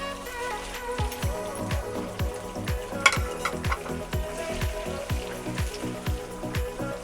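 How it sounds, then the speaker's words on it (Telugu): Green chillies frying in hot oil for tamarind pulihora, a steady crackling sizzle with regular stirring scrapes repeating about once a second, close and alone. "పచ్చిమిరపకాయలు మనకి వేగిపోయాయి."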